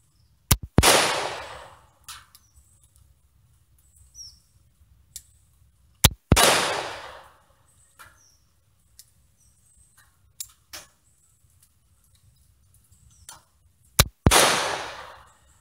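A Nagant M1895 revolver fires in stiff double action at a range: three loud, sharp gunshots spaced several seconds apart, each followed by a decaying echo, with quiet clicks and handling noise in between.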